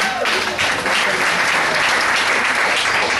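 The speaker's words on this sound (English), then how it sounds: "Another round of applause for everybody." A comedy club crowd breaks into loud, sustained applause, dense clapping that holds steady at full volume from start to finish.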